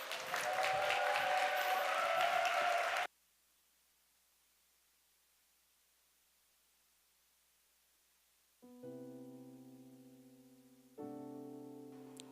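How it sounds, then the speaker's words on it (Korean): A church young adults' worship congregation claps to welcome a village shepherd to the front: a brief burst of full applause that cuts off into silence, followed by sustained keyboard chords entering twice. "육효진 마을 목자 나올 때 여러분 큰 박수로 맞아주시기 바랍니다"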